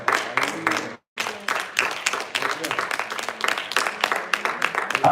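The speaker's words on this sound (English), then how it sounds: "Somebody clap your hands and thank God for the word." A congregation at a church service claps hands in a dense, steady burst of applause that stops briefly near the start and then resumes, with voices mixed in.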